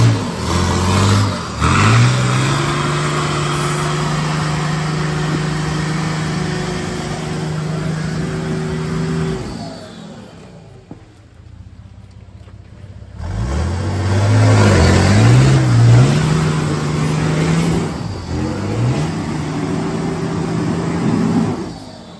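An off-road vehicle engine labors and revs on a steep winter hill track, running steadily for about ten seconds, dipping nearly silent, then surging back with rising and stepping pitch as gears change, loud and close.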